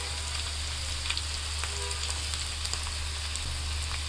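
Soft, steady sizzling of ginger, garlic and spices frying in oil, close by, with a low hum underneath and a few small pops and spatters.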